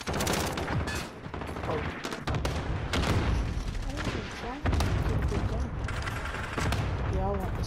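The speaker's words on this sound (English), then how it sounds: "Enemy cluster strike incoming." A cluster strike bombardment in Call of Duty Modern Warfare: a loud, close barrage of overlapping bursts and blasts that runs throughout, with a brief exclamation from a player mixed in.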